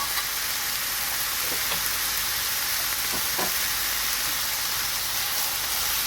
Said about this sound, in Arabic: قلبي بقى كل ده مع بعضه